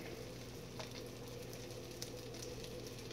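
Stuffed toutan dough frying in a cast iron pan, a faint, steady sizzle and crackle of hot oil with a few small pops, heard alone.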